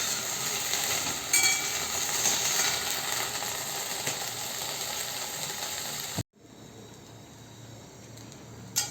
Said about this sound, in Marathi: तेलामध्ये परतून घेऊया.